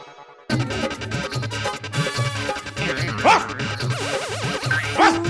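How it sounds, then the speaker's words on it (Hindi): A dog barks in rapid, loud bursts close by, mixed into a busy, chaotic household scene with music or other noises piling up over the barking. "आपके घर कुत्ता भी है?"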